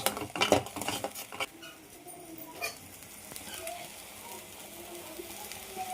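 A spoon stirs paneer gravy curry with turmeric in an oily pan, scraping and clinking loudly at first, then fading into faint, soft stirring and a low sizzle.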